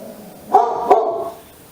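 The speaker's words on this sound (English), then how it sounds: "That is my dog." A dog gives two sharp barks close by, the second following quickly after the first, against a quiet indoor background.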